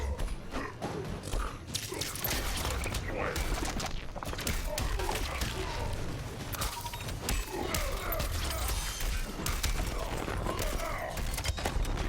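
Missile attacks in the Triborg fighting game, a dense continuous barrage of blasts and impacts mixed with game effects, loud and steady throughout while a commentator talks over the action.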